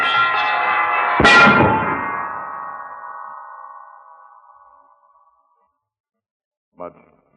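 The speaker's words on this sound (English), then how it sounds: "The center bell! The big one is falling!" A large church bell falls inside a bell tower: a sustained metallic ringing is broken by a sudden, heavy crashing impact, and the ring then fades slowly into silence before one brief final knock.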